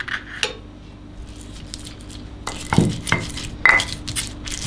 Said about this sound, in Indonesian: Kita ulek sampai halus.